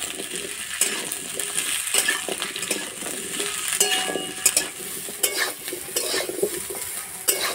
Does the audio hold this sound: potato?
yes